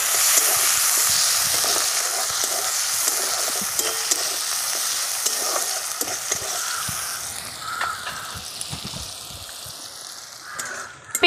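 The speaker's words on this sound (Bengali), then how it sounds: "পেঁয়াজগুলো ভেজে নেব।" Chopped onions sizzle steadily in hot oil in a pan for a Bengali fish curry, with occasional scrapes and clinks of stirring. The frying is loud and continuous with no talking.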